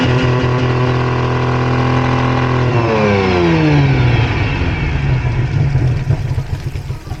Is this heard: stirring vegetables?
no